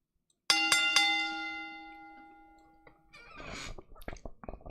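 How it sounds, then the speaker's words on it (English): A single bell struck once, ringing loud and clear, then a second quick strike, the metallic tone fading over a few seconds before clattering and handling sounds follow, in a wrestling review show. "Juan, ring that bell"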